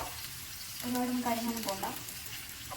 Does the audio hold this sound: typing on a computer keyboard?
no